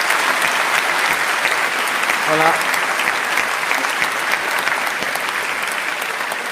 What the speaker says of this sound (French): qu'on applaudisse tous ensemble